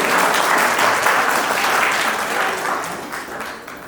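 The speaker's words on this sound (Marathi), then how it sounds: "त्याच्यासाठी एकदा जोरदार टाळ्या होते." An audience at a birthday celebration breaks into loud, dense applause. The clapping holds strong for a few seconds, then gradually thins and fades.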